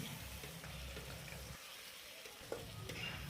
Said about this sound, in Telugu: టమాటాలు వేసుకున్న తర్వాతను దాన్ని బాగా కలుపుకోవాలి మంచిగా మిక్స్ అయ్యే విధంగా మంచిగా కలుపుకోవాలి